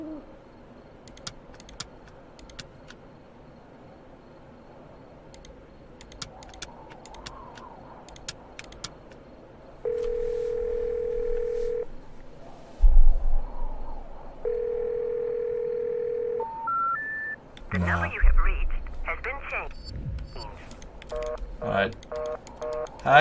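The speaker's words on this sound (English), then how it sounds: "Hang up the fucking phone." In the video game Psych, a telephone dial tone sounds in two long steady stretches, then quick dialing beeps follow, with a man's speech and chat chatter running underneath.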